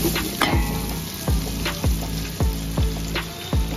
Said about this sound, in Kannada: ಎಣ್ಣೆ ಕಾದಿದೆ, ಇವಾಗ ಸ್ಪೈಸಸ್ ಎಲ್ಲ ಹಾಕೊಳ್ಳೋಣ.